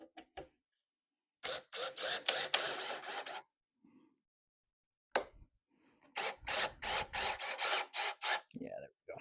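A ratchet driving screws down into the plywood base of an On30 model railway layout, heard as two bursts of quick, rapid clicking separated by a pause, with brief talk in between.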